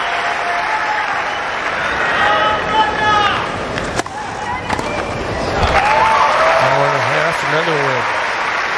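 A Wimbledon tennis crowd claps and cheers in a broad, sustained roar of applause at a 2018 Roger Federer match, with a commentator talking over it.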